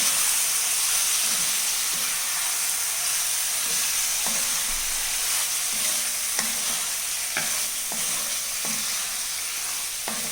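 Lemon pieces being stirred into hot pickle masala in a pan for homemade lemon pickle, a constant bright hiss and sizzle with regular scraping strokes about once a second, close and steady throughout, no voices.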